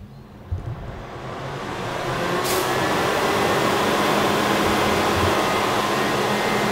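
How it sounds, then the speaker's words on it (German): An old Oerlikon welding machine from around 1980 switching on, a thump followed by a rising, loud, steady whirring drone of its fan and transformer that settles into a constant roar. "Mein Oerlikon Schweißgerät von 1980 so um den Dreh."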